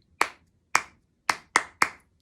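Five crisp hand claps ring out alone in a short rhythm, two evenly spaced, then a quicker group of three, close and clear with silence between them.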